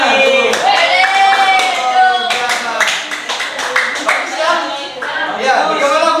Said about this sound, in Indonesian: Cukup, tepuk tangan.